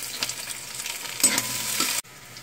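Capsicum frying in a pan with onion, ginger and garlic for chowmein, a steady close sizzle with stirring scrapes that cuts off abruptly near the end.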